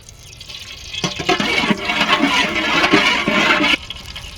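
Refined cooking oil pouring over spiced cauliflower in a village kitchen, a steady liquid gush starting abruptly, running close and fairly loud for under three seconds, then cutting off.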